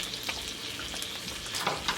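Shrimp and Italian sausage seasoned with adobo frying in a pan, giving a steady close sizzle with a few brief scraping stirs, no voices.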